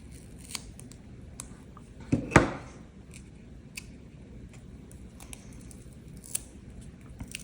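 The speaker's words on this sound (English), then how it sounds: "Scissors." Scissors snip through paper or card during papercraft, a brief crisp cut standing out over a quiet room with scattered faint rustles and taps.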